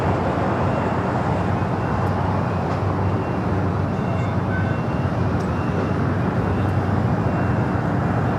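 A 23-year-old Boeing 757 arriving on runway 24 Right at LAX gives a steady, broad jet roar that stays loud and constant throughout, with no clear voices over it.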